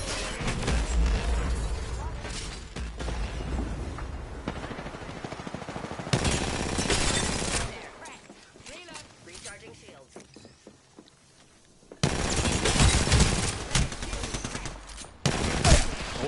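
Rapid bursts of video game gunfire crackle in long stretches, broken by a quieter pause, with a voice talking over parts of it.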